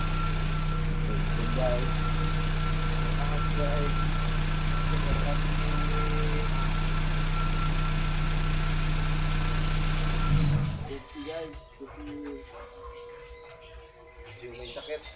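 A vehicle engine idles steadily nearby with a low, even rumble, then cuts out near the end, leaving birds chirping and a brief voice.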